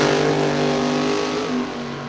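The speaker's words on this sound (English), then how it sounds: "I cannot even hear myself think over this car at the finish line" A drag racing car roars at the finish line of a Top Sportsman drag racing event, a loud, sustained engine blare that stays close and dominant the whole time with no voices over it.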